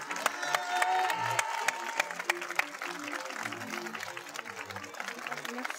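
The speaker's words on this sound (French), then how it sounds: "que vous les applaudissiez et que vous applaudissiez très très fort" A studio audience at a French home-makeover TV event applauds and cheers loudly, dense clapping filling the whole stretch with a faint tonal voice or whistle near the start and scattered crowd noise throughout.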